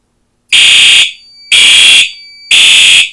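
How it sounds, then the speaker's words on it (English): A loud, harsh Code 3 mechanical fire alarm horn blares in three even pulses, each about half a second, with short gaps between. "It's just code 3 mechanical horn."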